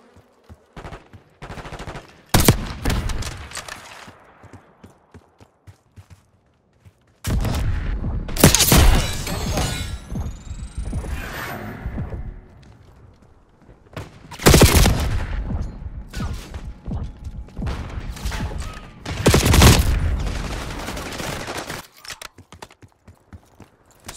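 Call of Duty Black Ops 6 Zombies gunfire on the Liberty Falls map, with several loud sustained bursts of rapid automatic fire separated by quieter gaps and scattered single shots.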